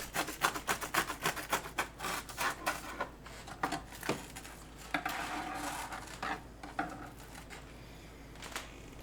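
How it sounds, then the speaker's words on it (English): A golden brown Reuben sandwich is cut on a plate, with repeated close scraping and knife-on-plate clinks in an uneven rhythm, then a steadier rubbing stretch and a few final taps. "When the bread is golden brown, move to a plate and slice for presentation"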